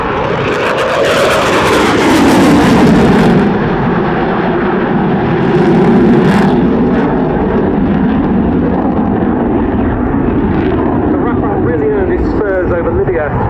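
A French Air Force fighter jet roars loudly past an airshow crowd, its engine noise sustained and broad, swelling twice before easing, with a commentator talking over it throughout.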